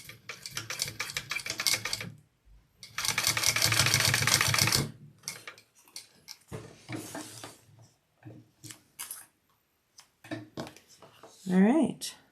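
A sewing machine bastes a piece onto a Charyn handbag in two rapid, close stitching bursts, one short and one longer, followed by light handling clatter, then a person speaking near the end.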